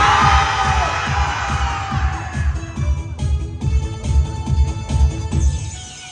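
A crowd cheers and shouts loudly throughout, with bursts of yelling and whoops over a dense, continuous roar.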